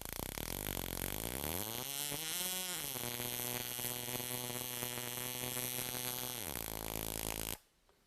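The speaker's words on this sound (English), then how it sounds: "we're throwing spark right across that." Loud, continuous buzzing crackle of electric spark jumping across an ignition gap during ignition scope testing, holding steady with a shifting hum for several seconds before cutting off abruptly.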